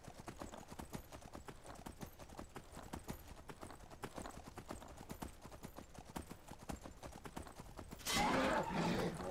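A Daedric Horse trots along in Skyrim, its hooves making a quick, even clip-clop at moderate distance that runs throughout, before a louder burst of noise near the end.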